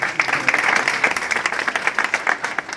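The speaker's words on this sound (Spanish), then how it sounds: "un fuerte aplauso, por favor." Wedding guests inside a church break into loud applause, a dense patter of many hands clapping steadily throughout, with a few murmuring voices mixed in.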